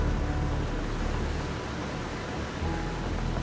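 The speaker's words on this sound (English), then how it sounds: "Finally, the rains are here. This is what I call a real downpour." Heavy rain pours down steadily on a flooding road in South Luangwa, a constant dense hiss and rumble that barely changes over a few seconds, full and near, with no voices.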